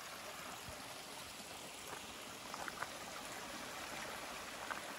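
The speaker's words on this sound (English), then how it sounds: "this water sort of flowing down right in here" Spring-fed water trickles and flows down rocks beside the Appalachian Trail in Shenandoah National Park, a quiet, steady outdoor babble with faint splashes and no voices.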